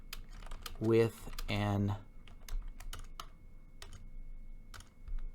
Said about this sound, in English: Whoa, I was doing so well typing.